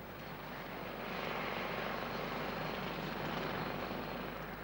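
Roar of massive Boeing 747 jumbo jet engines, a steady, dense broadband rush that swells slightly after the first second and holds loud and continuous, with no voices over it.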